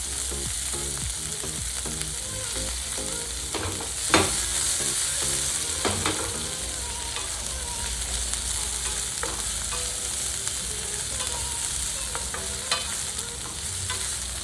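Sliced capsicum strips fry in hot oil for a garlic masala mushroom dish, giving a steady, loud sizzle with occasional scraping stirs and brief clinks, with no talking.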